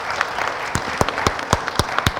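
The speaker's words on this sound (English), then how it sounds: "Please give a big round of applause, Dr. Devashish Mitra." Brief applause at an annual conference, a few distinct claps standing out close by over a softer spread of clapping from the audience, with no speech.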